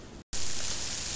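Heavy snow driven against a tent rain fly during a December blizzard in Saint Paul, Minneapolis: a loud, dense rushing hiss, briefly cut off, then returning strongly.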